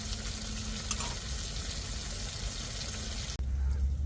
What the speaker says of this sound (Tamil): இப்போ கொஞ்சம் கொதிச்சு எண்ணெய் மேலே பிரிஞ்சு வரையும்